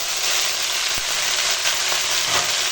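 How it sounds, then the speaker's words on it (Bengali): Chopped tender greens fry in a pan with onion, green chilli and crushed garlic, making a loud, continuous close-up sizzle with occasional soft stirring knocks. "এখন দিয়ে দেবো এই কেটে রাখা শাক"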